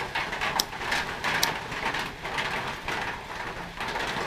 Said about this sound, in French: c'est tout simplement la pluie sur le toit de tôle de mon gazebo